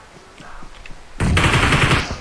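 Rapid automatic gunfire erupts suddenly from an enemy shooting while prone in a video game, a loud dense burst that continues to the end after a quieter stretch of scattered sounds.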